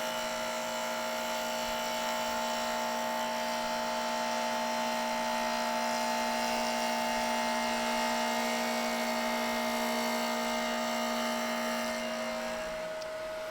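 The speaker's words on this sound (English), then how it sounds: "Turn my fan on." A small electric fan runs steadily beside a wood lathe, giving a continuous whirring hum with a constant tone that holds level and unbroken, with no talk over it.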